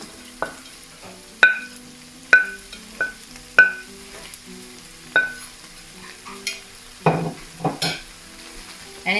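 Fried chicken stirred into ketchup sauce in a pan for devilled chicken, with sharp spoon clinks against the metal at irregular intervals over soft sizzling and wet scraping, close and clear.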